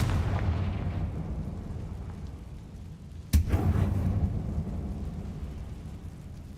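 In the Hogwarts Legacy video game, a Confringo spell blast bursts with one sharp, loud explosion midway, followed by a rolling rumble that settles back into a low, steady background drone.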